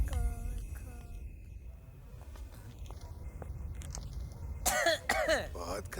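A person coughing and clearing their throat indoors, a few rough close bursts near the end following quieter ambient sound, with no talking over it.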